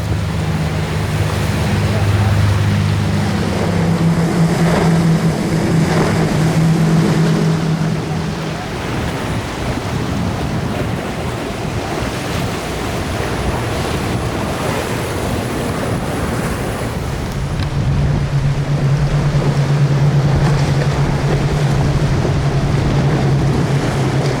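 A powerboat engine drones steadily beneath the wash of waves and gusty wind at Haulover Inlet, a continuous loud rush with a low hum throughout.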